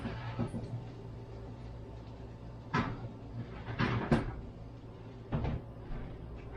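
An oven door opening and closing in a home kitchen while keto pizza bites bake, with a few sharp clunks and rattles spread over several seconds against a steady low hum.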